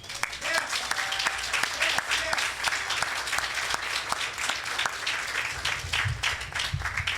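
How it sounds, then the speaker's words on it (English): Full round of applause at the opening reception and dedication of the Center for the Study of Slavery and Justice, given to President Simmons as she returns to her seat, a sustained dense clapping from a large crowd with faint voices beneath. "let us give her another round of applause."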